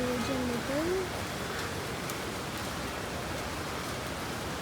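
Rain falling onto painting paper, a steady soft patter throughout with a brief voice at the start.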